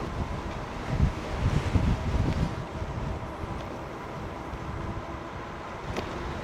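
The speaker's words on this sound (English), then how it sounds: "Got strong headwind, strong headwind." Strong headwind buffeting the microphone while riding a Lectric XP 3.0 e-bike, a continuous low rumbling roar that swells in gusts early on, then settles into steady close wind noise with no talking.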